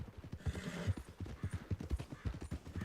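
Heavy Shire horse hooves clip-clop in Red Dead Redemption 2, a steady, close series of dull thuds at walking pace, with a brief whinny mixed in and no talking.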